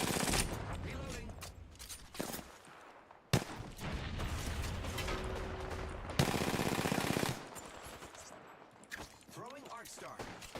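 Gunfire in a first-person shooter arena match, rapid automatic bursts and volleys, loud and dense, with someone talking over the shooting.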